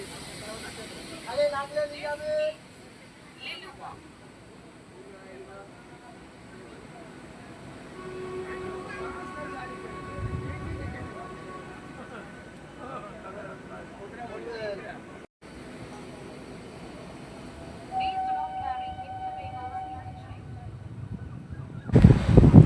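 A Howrah–Tarakeswar local train pulls out of Liluah station, a low rumble and hiss building slowly with faint tonal squeals and wind noise, while a voice talks over it.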